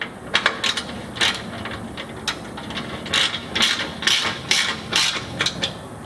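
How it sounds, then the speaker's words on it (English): A ratchet winds countersunk bolts into an APT engine sump guard on a Land Rover Discovery, giving bursts of close, rapid metallic clicking with short pauses between strokes. "As all the bolts are countersunk, wind them in gently at first"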